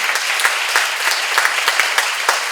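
Applause from a church congregation at a seminar, steady dense clapping with a few sharper individual claps standing out, lasting the whole stretch.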